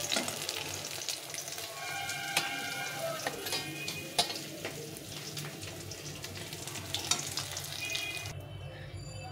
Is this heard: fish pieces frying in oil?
yes